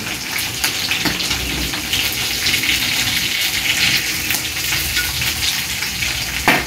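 Food crisping in hot oil in a home kitchen, a loud, continuous close-up sizzle with crackling spatter and occasional stirring, no talk.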